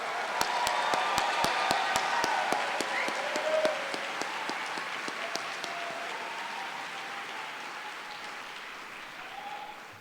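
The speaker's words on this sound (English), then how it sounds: "Now let's have one more round of applause for all the graduates of the Department of Forestry and Environmental Resources." Graduation ceremony applause for forestry and environmental resources graduates, a large crowd clapping continuously, with loud distinct claps close by early on and the sound gradually softening toward the end, faint voices underneath.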